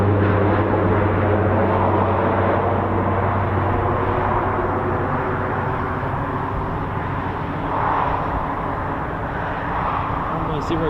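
Aircraft making a low approach over runway 02 at RAF Waddington, heard as a loud, steady engine drone with a low hum that holds across the whole stretch, while a voice talks over it.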